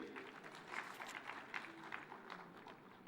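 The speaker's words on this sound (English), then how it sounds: "Let's give her a round of applause." An audience at a conference side event claps in a steady, moderate round of applause heard from a short distance, with no speech over it.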